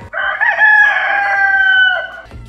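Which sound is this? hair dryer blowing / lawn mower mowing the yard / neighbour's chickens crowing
neighbour's chickens crowing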